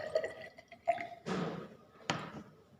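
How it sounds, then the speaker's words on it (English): A small object is lowered into water in a glass measuring cylinder, giving two brief watery splashes and sloshes over a quiet room background. "I will put this one inside the water"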